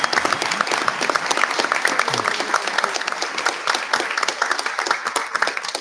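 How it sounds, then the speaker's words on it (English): A school board meeting audience applauds retiring school staff, a dense, steady round of clapping from a crowd in a hall that holds at an even loudness throughout, with no voices rising above it. "One more round of applause for everybody."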